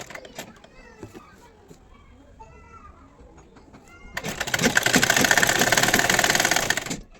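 A sewing machine stitches kurti fabric at a half-inch seam allowance, starting after a few seconds of quieter handling and then running loudly and steadily as a continuous whirring drone close by.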